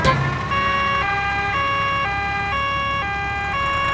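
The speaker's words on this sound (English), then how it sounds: "The ambulance is here!" A cartoon ambulance siren from Peppa Pig arrives with a loud two-tone alternating call that switches pitch about every half second, clear and alone, with no voices.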